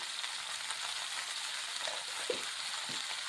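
Vegetables being stirred in a pan with turmeric and salt, a steady soft sizzle running throughout with a few faint scraping stirs, no talking.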